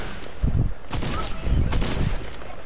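Gunfire in a video game: several sharp bursts of shots crack out in an uneven rhythm, close and fairly loud, with a few quieter pops in between.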